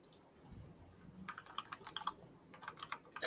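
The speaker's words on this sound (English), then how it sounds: "that was me just typing down in my notes" Computer keyboard keys being typed in a rapid, irregular burst of light clicks, close and fairly quiet, starting after a short lull of low room noise; no voices.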